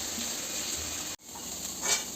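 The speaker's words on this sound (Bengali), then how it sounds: "এই আলু ভাজা করছি" Potatoes fry in a pan for chowmein, giving a steady close hiss of sizzling oil that drops out for an instant midway and then resumes, with no talking.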